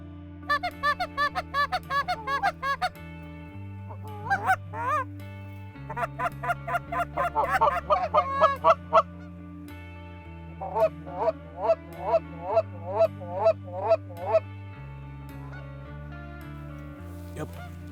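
Geese honking during a goose hunt over stubble fields, repeated bursts of loud calls in rhythmic series with pauses between, close and clear, alongside a low sustained tone.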